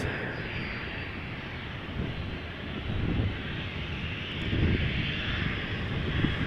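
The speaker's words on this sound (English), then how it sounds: "Embraer 190, KLM flight 1449, destination Aberdeen" A 13-year-old KLM Embraer 190 jet passes an Amsterdam plane-spotting spot, producing a steady, moderately distant engine roar that swells gradually over several seconds.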